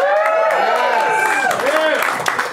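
Small audience at a house concert gives lively applause with some cheering, steady and close, while voices talk and call out over it.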